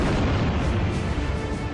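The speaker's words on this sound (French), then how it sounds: "elle réalise sa première explosion atomique aérienne" Atomic bomb explosion, France's first aerial nuclear test in the Algerian Sahara in 1960, as a loud, sustained, broadband rumbling roar that fills the whole moment without letting up.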